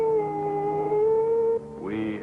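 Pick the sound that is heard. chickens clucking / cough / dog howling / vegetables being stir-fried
dog howling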